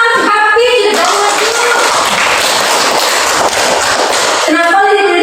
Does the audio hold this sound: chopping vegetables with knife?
no